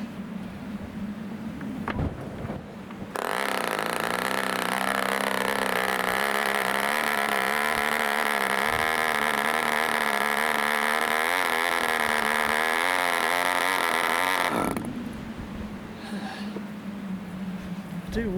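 A 1947 Westbury Atom Minor MkIII 6cc home-built model engine running on glow fuel with the throttle open, a loud, high, buzzing whine that starts abruptly, holds for about eleven seconds, then cuts off, with quiet talking before and after.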